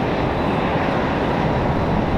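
Endeavor CRJ regional jet arriving at Raleigh-Durham airport, a steady broadband engine roar that holds at constant loudness throughout, with no voices.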